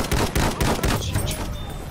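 Rapid, loud gunfire in the Battlefield 1 video game, with dense bursts of shots and explosive cracks filling the full two seconds, some voice chatter faintly mixed in.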